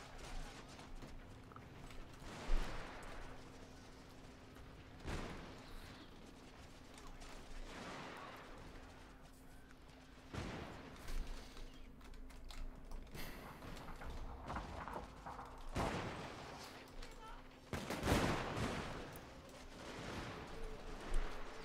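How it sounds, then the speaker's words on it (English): Volleys of rapid-fire troop gunfire from the video game Shogun 2: Total War crack out in bursts every few seconds over a low battlefield hum, moderately distant and fairly quiet. "Especially now that my troops can rapid fire."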